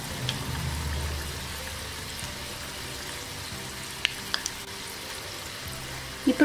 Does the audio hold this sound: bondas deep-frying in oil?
yes